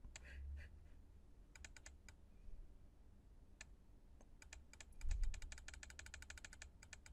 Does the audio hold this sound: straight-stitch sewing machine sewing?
no